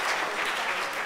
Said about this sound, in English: Give our world problems a big round of applause.